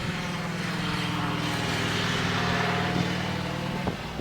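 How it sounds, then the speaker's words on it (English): A Harley motorcycle rumbles by with a steady low engine drone that holds for several seconds, then ends with a short thump. "Thanks dude on your Harley fucking motorcycle for ruining that."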